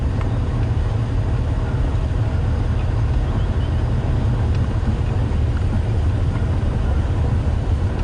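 A safari vehicle rolling slowly through the bush with its engine held at low revs, giving a steady low rumble that stays even throughout, with no voices.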